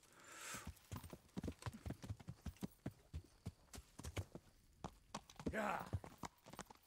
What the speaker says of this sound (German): Das ist mein Pferd.